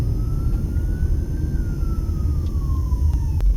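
A fire truck siren wails as the engine crosses just ahead at a Las Vegas intersection off the Strip, its tone slowly rising then falling over steady, loud traffic and engine rumble.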